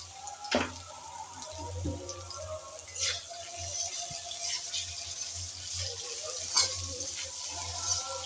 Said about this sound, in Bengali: ঢাকনা দিয়ে কিছুক্ষণ ভেজে নিলাম।